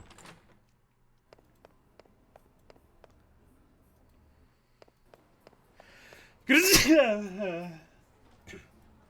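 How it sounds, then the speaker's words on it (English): A single loud, sharp sneeze bursts out midway after a stretch of quiet faint ticks and clicks, followed by a short breathy tail, with no speech. "I was gonna say I'm gonna sneeze, but by the time I got to G, I had already sneezed."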